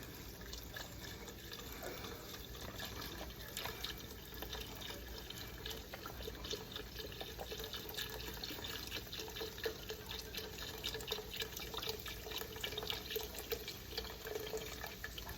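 Chicken stock poured into a pot for chicken and sausage gumbo, a soft continuous splashing and trickling of liquid, faint and steady with small drips, no talking.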